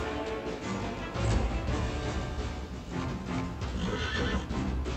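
Horses in the video game Pathfinder: Wrath of the Righteous whinny and snort amid a dense, noisy din with clopping hooves, continuous and loud throughout.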